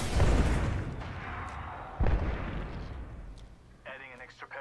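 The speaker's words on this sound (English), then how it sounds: "Incoming frag." A frag grenade explodes in the Apex Legends video game, two heavy booms about two seconds apart, each trailing off in rumbling decay, followed by a voice speaking briefly.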